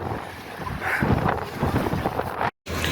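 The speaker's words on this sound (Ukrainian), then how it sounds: "О, дивіться, що вітер робить, капець." Strong gusting wind buffets the microphone with a rough, broadband roar that swells and holds, briefly cutting out near the end.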